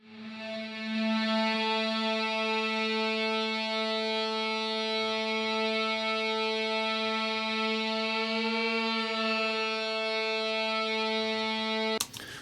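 Sustained guitar drone played with an EBow, a steady note with rich stacked harmonics holding evenly for about eleven seconds before cutting off abruptly, loud and alone.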